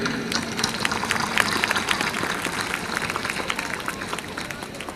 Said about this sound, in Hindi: बच्चों के लिए एक तालियां।